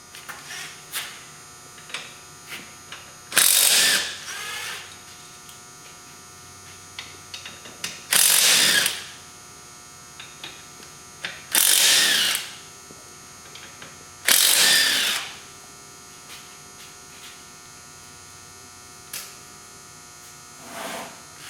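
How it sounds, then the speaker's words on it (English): A ratchet bolting wheels onto a 2003 Polaris Ranger 6x6, four loud, close bursts of rapid clicking, each about a second long, separated by quiet pauses with faint handling noises. "they're going to be bolted on right now"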